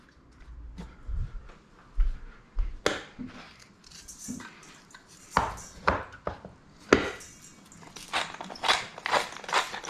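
Parsley is roughly chopped with a knife on a cutting board, a run of sharp, close thuds that comes irregularly at first and then settles into quick, rhythmic strokes.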